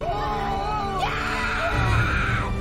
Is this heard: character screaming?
yes